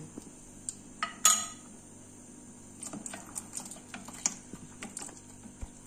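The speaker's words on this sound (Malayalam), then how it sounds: "അപ്പൊ കൈ എടുക്കാതെ ഇങ്ങനെ ഇളക്കിക്കൊണ്ടിരിക്കണേ." Custard mix stirred into boiling milk in a pan, a scattered run of soft clinks and scrapes of spoon against metal, close by and faint, with a louder clatter early on.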